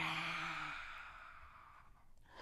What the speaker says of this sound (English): Did you see how my lion just yawned a big yawn?